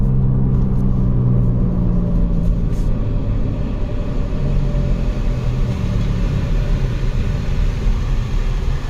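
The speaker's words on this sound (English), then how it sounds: "Wheel bearing's horrible." A 2011 Nissan Rogue with a worn wheel bearing, heard from inside while driving: a steady, loud low rumble and drone of road and bearing noise, continuous throughout with no talking.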